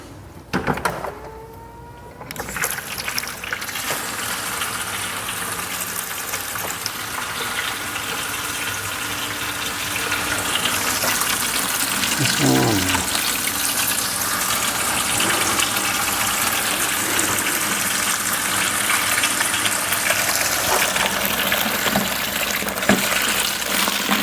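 Water runs and splashes steadily while a Mitsubishi Lancer Evolution VIII is being washed, a broad continuous hiss that swells slightly louder partway through, with a low hum beneath and no voices.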